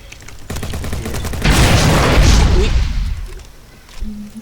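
Loud combat in the video game Bad Business: a rapid burst of gunfire followed by a heavy, rumbling grenade blast that swells and slowly fades, with scattered shots continuing after.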